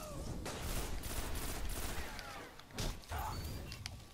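A fusion rifle fires in Destiny Trials gameplay, a dense crackling volley of energy shots sustained near and loud with a short gap before another burst.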